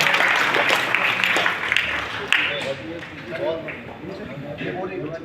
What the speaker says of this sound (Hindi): तालियों से स्वागत करें जोरदार इनका